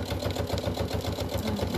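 A sewing machine stitches a shopping trolley handle cover at a quick, even rhythm, a fairly quiet mechanical chatter running steadily throughout with no voices.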